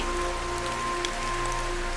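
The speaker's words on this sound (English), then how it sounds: "The rain began to fall again, softly at first, then with a steadier rhythm," Soft rain patters lightly and evenly under a steady tonal background hum, a quiet continuous wash of drops with no voices.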